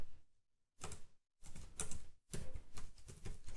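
Typing on a computer keyboard, heard as several short bursts of quick, close key clicks separated by brief silences, fairly quiet and with no talk.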